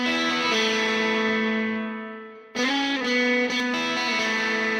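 Bright, jangly country-style lead guitar through a low-gain Gojira amp on its bright setting with a little reverb, sustained chiming notes ringing out, fading, then a fresh strummed attack that rings on, played alone.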